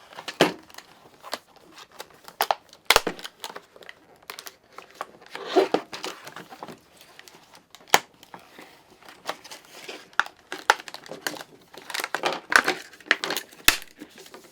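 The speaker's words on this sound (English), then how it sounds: "I'm just going to destroy this packaging, getting it out of here." Knife sharpener packaging, cardboard and plastic, is torn and crushed up close in irregular crinkling and crunching bursts with sharp snaps throughout.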